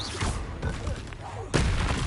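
In Hogwarts Legacy, a Confringo blasting spell strikes with a sudden broad, crackling burst near the end, following muffled thumps and rumbling combat noise, with a faint voice beneath.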